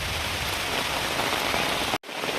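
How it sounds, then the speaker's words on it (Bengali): Steady, close rain pours down on a rural Bangladeshi homestead where cattle stand out in the wet, a dense unbroken hiss that cuts out in a brief gap near the end before resuming. "বৃষ্টি পড়ছে যেহেতু"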